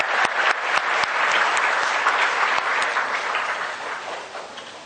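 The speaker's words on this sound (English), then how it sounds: "Big applause." An audience at a quiz show applauds steadily at the end of round three, a dense wash of many hands clapping that holds strong before easing slightly toward the end, with no talking over it.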